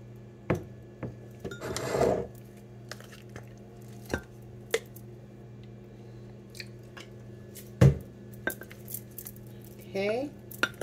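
Dishes and cutlery clink sporadically while food is transferred into a bowl, with a few louder scraping clatters standing out against a steady low background hum.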